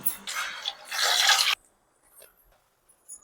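Sweet potatoes being washed by hand in water before pressure-cooking, a loud splashing, sloshing wash for about a second and a half, then stopping, followed by a few faint drips and soft handling sounds.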